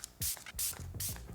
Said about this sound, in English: You want to mix it and spray.